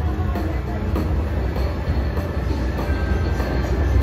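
A gold train bonus plays in a slot machine game, giving a steady, loud rolling train rumble with rhythmic clickety-clack of wheels throughout the short stretch.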